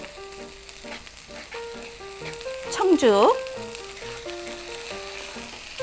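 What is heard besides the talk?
sauce stir-frying and bubbling in pan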